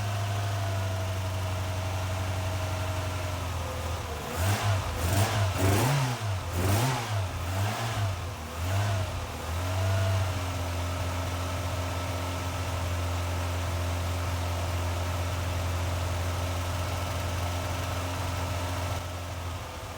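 A Mk3 Ford Escort RS1600i engine, running on a temporary intake pipe fix, idles and then revs sharply several times in quick bursts before settling back to a steady, close idle.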